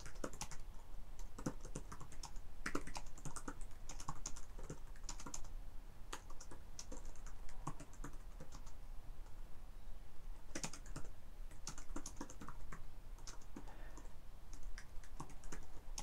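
Steady, continuous computer-keyboard typing while code for a Vue component is written at a JavaScript REPL, close and clear, with dense irregular key clicks throughout and no talking.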